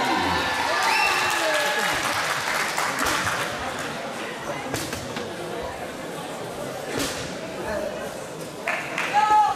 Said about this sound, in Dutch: En een groot applaus natuurlijk